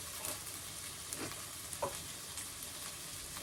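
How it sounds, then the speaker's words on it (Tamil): Brinjal and other vegetables fry in oil for a veg curry, with a soft, continuous sizzle and occasional light stirring scrapes, fairly quiet and close. "ஃப்ரை பண்ணிக்கலாம்."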